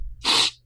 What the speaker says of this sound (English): I just had to sneeze